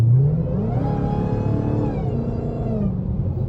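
A Dodge Hellcat Jailbreak fitted with a new aftermarket intake revs up and holds, its supercharger whine rising over a steady mid-range engine roar. Close and loud, with no talking.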